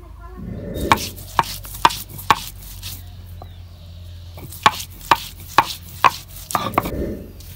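A large homegrown sweet pumpkin is cut up for khichdi, giving sharp, close chops in two quick runs of four to five strikes each, with a pause between the runs.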